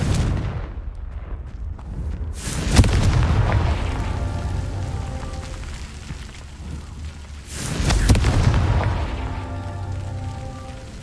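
Two heavy booming blasts from the Confringo spell in Hogwarts Legacy, each a sharp crack that rolls into a long rumbling tail, several seconds apart.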